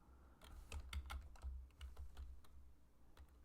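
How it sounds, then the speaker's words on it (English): A computer keyboard clatters with a quick run of keystrokes, light rapid taps in an uneven rhythm, faint and close, with no talking. "if I hit Control and space and start typing worksheets"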